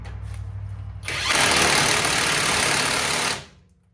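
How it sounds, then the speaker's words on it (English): Impact wrench driving brake caliper bolts on a 2007–2021 Toyota Tundra or Sequoia during a brake job: a low hum gives way to one loud, close, sustained rattling whir of about two seconds, then it stops abruptly. "This impact puts out plenty of torque."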